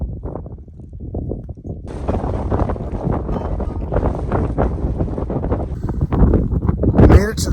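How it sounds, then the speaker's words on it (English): Strong, gusty wind buffets the microphone at the top of Pinchot Pass in the mountains, rumbling loudly in bursts that build toward the end, with a voice talking underneath. "it's a little too windy for my taste"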